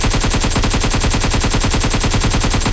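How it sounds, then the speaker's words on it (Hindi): Rapid, continuous machine-gun fire, loud and close, with evenly spaced bursts hammering without pause, as a vehicle is surrounded. "उसकी थार को घेरती है और अंधाधुंध गोलियां चलने लगती है"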